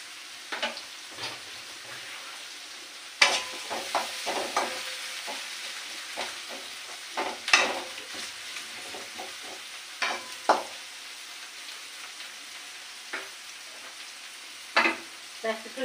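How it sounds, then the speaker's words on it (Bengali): Chopped onions fry in a wok with a soft, steady sizzle, broken by sharp, irregular scraping knocks as a utensil stirs them, close up and fairly quiet, with no one talking. "পেঁয়াজটা একটু লাল লাল হলে আর একটু ভাজা ভাজি হলে তারপরে ওই আদা রসুনটা দিয়ে দেবো"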